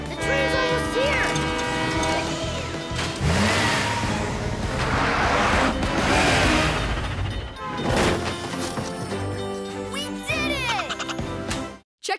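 A train rumbles closer with a blaring horn amid loud, busy cartoon-style music and effects, building in intensity before cutting off abruptly.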